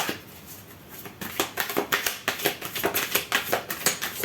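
Tarot cards are shuffled by hand in a quick run of crisp, rhythmic riffling flutters that repeat steadily after a softer start, close up and with no talking.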